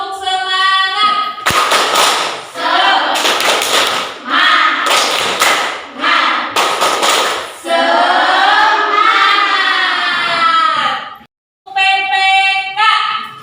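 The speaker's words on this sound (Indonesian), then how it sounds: "coba kita tepuk semangat dulu ya" A classroom of pupils doing a rhythmic group clapping chant, sharp unison claps in quick patterned bursts alternating with loud children's chanting voices, close and energetic.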